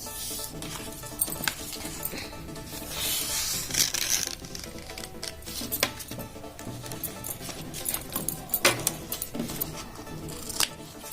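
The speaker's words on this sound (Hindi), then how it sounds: "रेंज पे आ रहा है तो फिर हम ये बुकरम काट लेंगे" Scissors cut through stiff buckram fabric for stitching a kurti, giving close, soft crisp snips and rustling fabric handling in an irregular pattern, fairly quiet and without talk.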